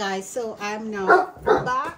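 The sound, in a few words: puppy barking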